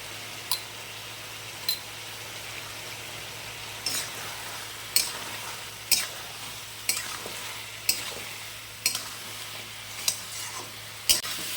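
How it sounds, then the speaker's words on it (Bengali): Vegetables and spices for Bengali sukto being stirred in a pan, a spatula scraping and knocking against the metal every second or so over a soft continuous sizzle and a low steady hum. "সবজি দিয়ে মশলাটা ভালো করে কষা হয়ে গিয়েছে"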